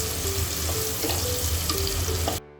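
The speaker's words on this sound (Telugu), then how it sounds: "ఒక చిన్న ఆనియన్ చాలా చిన్న ముక్కతో కట్ చేసుకొని ఫ్రై చేసుకుందాం" Finely chopped onion fries in a pan for an Andhra-style stuffed brinjal curry. A dense, close sizzle with light crackles plays without speech, then cuts off abruptly near the end.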